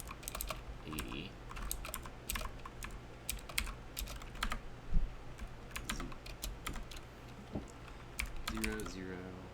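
Numbers being typed on a laptop-style computer keyboard without a numpad while entering matrix values for a circuits physics problem, irregular bursts of close, crisp keystrokes with brief pauses, a low hum underneath.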